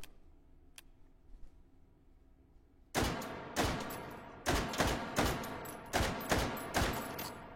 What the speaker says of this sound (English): why don't we just fire off a magazine of this?